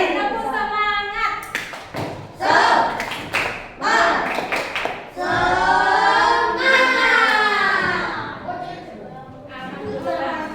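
Children in a sixth-grade classroom clap in a rhythmic chant-like pattern of quick taps and bursts, loud and close, mixed with children's voices calling along.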